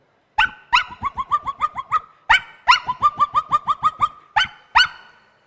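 A voice imitates a Pomeranian dog yapping, with sharp high barks in quick bursts and short pauses between the groups.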